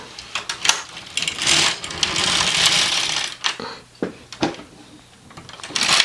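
A knitting machine carriage is pushed across the needle bed to knit a row during sweater neck and shoulder shaping, giving a loud mechanical rushing slide with clacks and clicks as it moves back and forth, close by with no talk.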